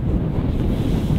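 Wind gusting across an open golf course, a steady loud rushing buffet against the microphone with no voices.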